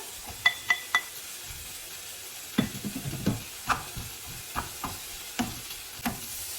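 Garlic and onion crackle and sizzle in an oiled pan for a crunchy bean sprout dish, with a steady frying hiss broken by a series of sharp stirring clacks from the utensil against the pan.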